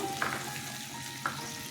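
Sautéing sorputi (olive barb) fish in a mustard jhal curry, seasoned with turmeric and salt, gives a steady close sizzle in a pan, with two brief spatula scrapes rising over the frying hiss.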